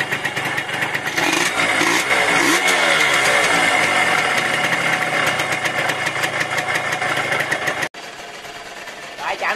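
A motorcycle engine with a scored cylinder runs loud and steady with a rough, rattling tone, then cuts out abruptly near the end before a quieter idle resumes.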